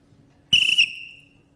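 A physics lecturer whistles one high, pure tone in a lecture hall during a class on vibrations, waves and Fourier analysis. It's a single short, clear note that cuts in abruptly and trails off quickly, heard alone and fairly loud.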